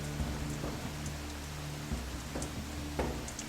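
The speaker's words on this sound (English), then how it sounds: "The evening of day 1 brings a torrent of unseasonable rain" An unseasonable evening torrent of rain falls on a dry lake bed in Nevada, making a steady hiss with scattered heavier patters and a low hum underneath.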